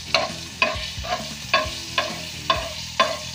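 Salt is stirred into a hot pan while popcorn is being made, each sweep of the spoon scraping the metal in a regular rhythm of about six strokes, close and clear over a faint sizzle.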